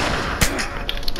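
Gunfire from a shotgun in The Last of Us video game, with sharp blasts rising over a dense, noisy game soundtrack and a couple of quicker follow-up shots near the end.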